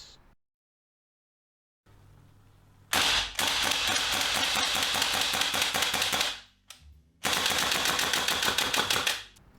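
Gas-powered BB rifle, rated to send BBs out to 70 meters, fires in two long rapid bursts of sharp clattering shots after a short silence. The bursts are loud and close, split by a brief pause.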